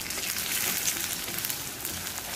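Onions frying in a pan with a paste of ginger, garlic and cumin, giving a steady, close crackling sizzle with no talk.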